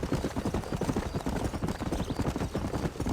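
Horse hooves clip-clop in a steady, quick rhythm while riding in the Red Dead Redemption video game, close and continuous over a few seconds with no voices.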